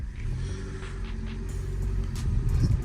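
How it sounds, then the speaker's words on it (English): A Ford Fiesta with high mileage idles with a steady low engine rumble close by, a few faint knocks and clatters over it and the tone swelling slightly toward the end. "Now let's just give the car a start."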